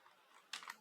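Computer keyboard keys pressed in a quick cluster, the last a firmer Enter press, faint and close against quiet room noise.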